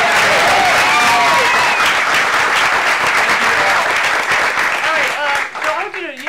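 A theatre audience at an improv comedy show applauds the booth crew, a loud dense ovation with cheers and whoops on top that thins out near the end.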